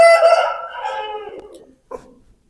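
A heavy rooster, a prize bird of a strong breed weighing about 4.7 kilos, gives a loud, close crow that trails off, then a short cluck after a brief pause.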